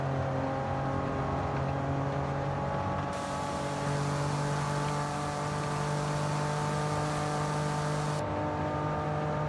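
An old Porsche in Forza Horizon 5 drives at a steady engine drone with long gearing, holding a constant pitch and loudness throughout, with no talk.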